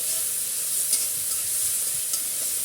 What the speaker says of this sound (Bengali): এখানে কাঁচামরিচ দিয়ে দিলাম কিছুটা তিনটি কাঁচামরিচ